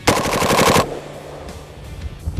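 An FAL rifle fires a short full-auto burst during extreme cold-weather ice testing, a loud, rapid string of close shots that stops abruptly and leaves a ringing, noisy tail.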